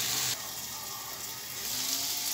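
Potatoes frying and simmering in a covered pan, a soft steady sizzle with a watery bubbling hiss that holds evenly throughout, no talking.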